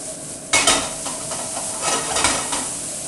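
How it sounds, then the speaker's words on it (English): Food sautéing in a hot pan while a wooden spoon stirs it: a steady, fairly loud sizzle with scraping and clattering strokes of the spoon, stronger bursts near the start and middle, and no voices. "Saute this up nice."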